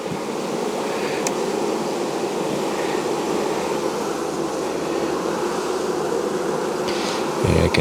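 Honey bees at a hive without a laying queen hum in a dense, steady drone that stays close and loud, with no voices over it.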